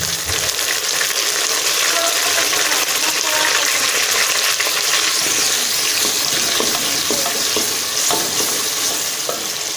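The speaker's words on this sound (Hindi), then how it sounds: "अब हम इसमें दो दरमियाने साइज़ के चॉप किए हुए टमाटर डाल देंगे।" Chopped tomatoes tipped into light-brown frying onions for an aloo matar gosht curry, giving a steady loud sizzle with stirring scrapes throughout, close up and without speech.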